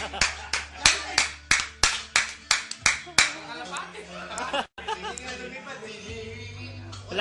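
Hands clap at a casual drinking session, about a dozen sharp, evenly spaced claps in a steady rhythm, then they stop and voices chat and laugh.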